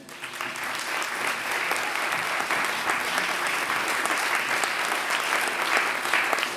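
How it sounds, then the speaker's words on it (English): Sustained audience applause for speaker Tim Brighouse at a TMOxford 2014 education event, a dense steady wash of many hands clapping at even loudness for several seconds. "massive round of applause to Tim"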